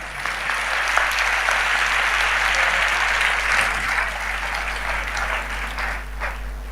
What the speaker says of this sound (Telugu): మీరు చప్పట్లు కొట్టారు, నాకు ఆనందమే